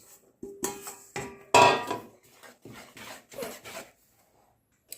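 Eggless chocolate cake batter being mixed in a bowl: irregular bursts of scraping and knocking from the spoon against the bowl, close and fairly loud, with short pauses between strokes.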